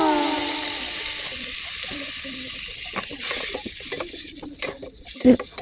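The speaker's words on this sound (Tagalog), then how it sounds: "At pagkatapos ay halu-haluin natin hanggang sa manuot yung toyo doon sa mismong atay." Chicken liver simmering in soy sauce in a pan, with a steady sizzle and wet stirring scrapes as it is turned over, close and fairly loud, ending in a sharp clack of utensil against pan.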